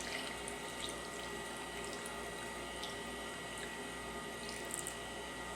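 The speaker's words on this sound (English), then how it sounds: "I have 6 ounces of water here. I'm going to pour this in and see how it looks." Water, about six ounces, pours into the barrel of a rotary rock tumbler filled with rocks and ceramic media, a faint, steady trickle and splash running the whole time with no speech.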